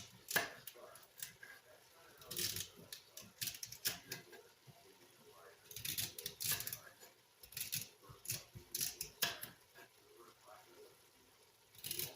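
Knife chopping celery on a cutting board in a home kitchen, bursts of quick crisp chops in irregular clusters with pauses between, close and fairly quiet.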